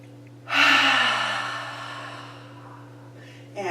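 A single long, deep breath during a yoga practice: a loud, close rush of air that swells quickly and then fades slowly over about three seconds, with the start of another breath right at the end.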